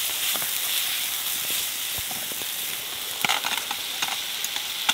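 Food frying in bacon fat in a firebox pan outdoors in Nercwys Woods, North Wales, a steady close sizzle and hiss with occasional sharp crackles and pops, no voices.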